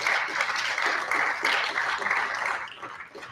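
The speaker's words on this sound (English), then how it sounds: "How about another round of applause for our winter All County student athletes" Moderate applause from a board of education meeting audience honoring winter All County student athletes, steady clapping for about two and a half seconds, then tapering off.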